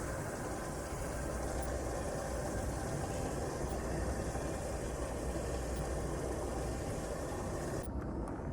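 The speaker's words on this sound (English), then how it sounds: "Train just scared them up." A train passes somewhere outside in snowy open country, giving a dense, loud, unbroken rumble and roar that holds steady throughout and then cuts off abruptly at the very end.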